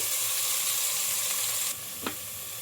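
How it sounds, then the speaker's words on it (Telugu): Onions frying in a pan, a dense steady sizzle that drops suddenly to a quieter hiss partway through, with one brief scrape of a utensil soon after. "ఈ ఆనియన్స్ బ్రౌన్ కలర్ వచ్చే వరకు అయితే ఫ్రై చేసుకోవాలి"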